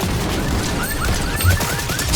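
Rapid bursts of Fortnite gunfire crackle in quick succession, a fusillade of sharp shots with a few booms, loud and close.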